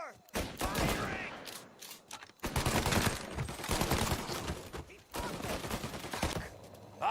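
Rapid bursts of gunfire from a Mafia Definitive Edition shootout, loud dense volleys broken by brief pauses, close and continuous across several seconds.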